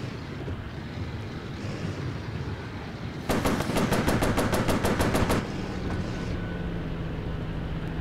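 Warplane guns firing in bursts at bombers in the Warplanes: Battles Over Pacific flight game, a rapid rattling volley of about two seconds over a constant roar of engine and wind, with no speech.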